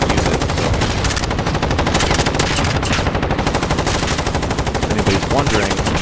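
Sustained rapid-fire bursts from an MP7 submachine gun in a video game, a dense, loud rattle of shots running continuously without pause.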